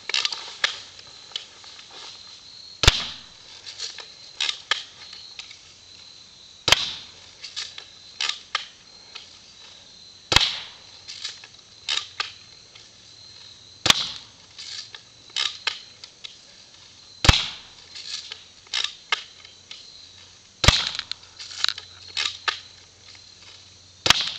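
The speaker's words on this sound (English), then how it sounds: "Alright, I'm gonna shoot it a couple times and see what happens." Gunshots fired at a target, roughly eight sharp, loud reports spaced every few seconds, with softer clicks, rattles and handling noises in between and no talking.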